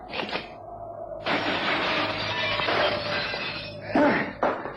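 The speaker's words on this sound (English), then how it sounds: "I'm going to simply jump through the glass." Window glass shatters loudly as a man leaps through it in a radio drama, a sustained crash of breaking panes running several seconds with a fresh burst of falling shards near the end.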